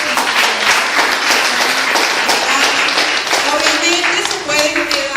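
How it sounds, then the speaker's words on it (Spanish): A therapy group's audience applauds with a noisy wash of clapping, loud and continuous, while voices carry over it. "Un fuerte aplauso para ustedes"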